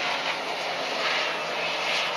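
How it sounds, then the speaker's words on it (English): A Hummer H2 with a 6.2-liter V8 drives through desert dunes in Dubai, its engine and wind noise forming a dense, steady roar that fills the short stretch without breaks. "In the desert of Dubai, a Hummer H2 in the dunes."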